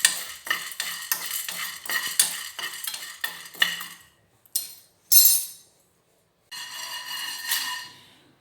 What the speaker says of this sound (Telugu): ఇది కూడా లైట్గా గోల్డ్ కలర్ వచ్చేదాకా సిమ్లోనే పెట్టి వేయించాలి.